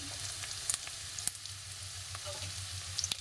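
Potatoes and green chillies fry in a pan with a steady low sizzle, broken by a few sharp pops and crackles. Nobody speaks.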